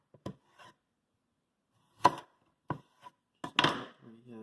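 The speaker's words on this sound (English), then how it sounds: "Just want to cut your potato like so." A sharp kitchen knife slices through a raw potato on a cutting board to make homemade fries, giving a few separate, crisp chopping knocks with quiet pauses between them, close and clear.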